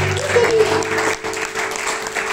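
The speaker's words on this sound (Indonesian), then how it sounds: "Tepuk tangan bagi anak kita." A church congregation at a Pentecost sermon breaks into applause, a dense burst of clapping over a sustained musical tone, loud and close, for about two seconds.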